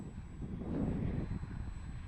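A high-winged radio-controlled plane drones faintly overhead with its flaps fully lowered for landing in the wind, engine buzz rising briefly then fading, with wind rushing at the microphone.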